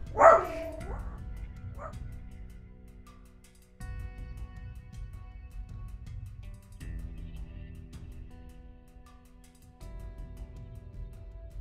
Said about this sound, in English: Oops, here goes the dogs.